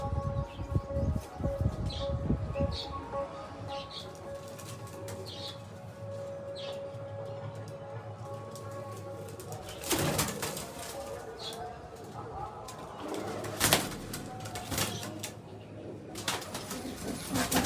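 Domestic pigeons at a loft, with repeated soft cooing and several bursts of flapping wings, near and fairly loud against steady background noise.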